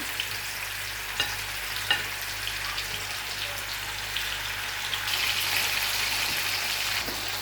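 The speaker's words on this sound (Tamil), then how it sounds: "இப்போ நாங்கள் பிரட்டி வச்சுருந்த மீனை வந்து இதுக்கு போட்டு பொரிச்செடுப்போம்" Anchovies frying in hot oil give a steady, dense sizzle and crackle, with a few sharper pops and a brighter, louder stretch toward the end.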